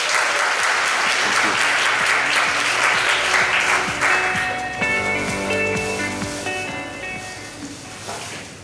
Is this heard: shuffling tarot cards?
no